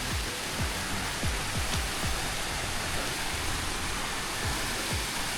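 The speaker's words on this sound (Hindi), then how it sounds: "मज़ा आ गया पानी का स्रोत देख के।" A mountain water spring on a Himalayan trek in Uttarakhand flows steadily, a close, continuous broadband rush and splash with no voices.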